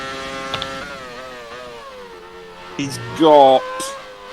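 Race car engine in a classic-league sim racing game at the Belgian GP, a steady harmonic drone that climbs in pitch and flares louder near the end as a car leaves the pits, under a commentator's talk.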